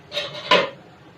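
Rice tipped into a pot of boiling water while cooking biryani, a short rustling pour ending in a sharper clatter and splash against the pot, close and fairly loud.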